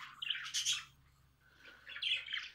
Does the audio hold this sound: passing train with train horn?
no